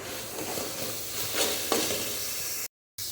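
Ginger garlic paste sautés in a pan with curd for a chicken biryani, giving a steady close sizzle and soft stirring scrapes with no talk.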